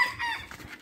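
A rooster crows once in a short, harsh burst, fairly close, with a bit of faint background noise behind it.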